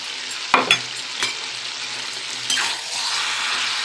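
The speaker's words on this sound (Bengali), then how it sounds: "এরপর আমি চিংড়ি মাছটা দিয়ে সামান্য জল দিয়ে দেবো" Green jackfruit curry sizzling in a pan as shrimp go in, with a few sharp clanks and scrapes of a spatula early on, then a swelling hiss that settles into steady frying, close and loud.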